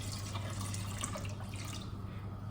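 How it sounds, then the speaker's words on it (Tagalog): Water poured into coconut cream in a cooking pot, a steady close trickle and splash running continuously with a faint low hum beneath. "Nadagdagan na lang po natin siya ng tubig."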